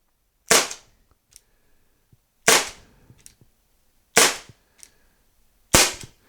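A Byrna LE or SDXL launcher fires into a cardboard box: four sharp, loud cracks spaced about two seconds apart, each followed by a faint impact tap, with near silence between shots.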